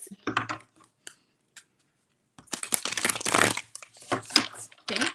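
Tarot cards being shuffled by hand in quick riffling bursts, with a short flurry, a pause, then a longer, denser run of crisp card flutter, close and moderately loud, with some talk mixed in.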